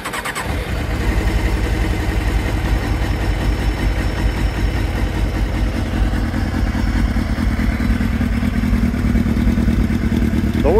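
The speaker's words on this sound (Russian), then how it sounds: "Давайте включим, посмотрим. Как он у нас заводится." A 2003 Suzuki GSX-R 600 K3 motorcycle cranks briefly, fires up and settles into a loud, steady idle that continues to the end with a rapid throbbing pulse.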